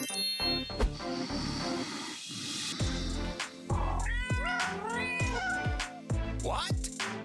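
A cat meows several times in a row, clear and close, with high drawn-out calls among light knocks and clatter from crafting pillows at home.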